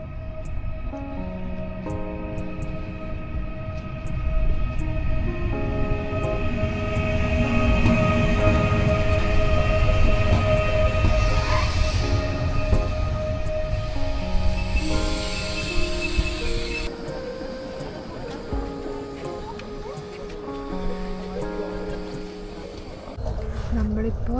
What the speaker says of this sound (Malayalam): ഇത് ബുള്ളറ്റ് ട്രെയിനാണ്, അർഫോസിയോവ്.